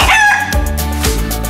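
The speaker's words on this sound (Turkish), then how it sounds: "Tavuklar gıdaklıyorlar." Chickens on a farm cluck and cackle loudly and close by, a few quick squawking calls layered over a tonal musical background.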